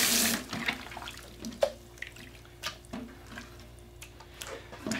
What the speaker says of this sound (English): It works nice if you rinse it off a little bit and get it kind of cleaned up where you can see everything really good.